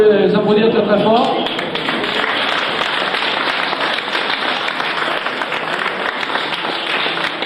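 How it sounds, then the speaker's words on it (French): An evening crowd at a FSGT cycling challenge in Sarthe applauds the cyclists, a loud sustained wash of clapping that follows a brief burst of talk at the start. "Bon, je pense qu'on peut les applaudir très très fort."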